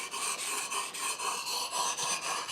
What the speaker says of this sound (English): this is what I believe is called the Japanese Whetstone technique for sharpening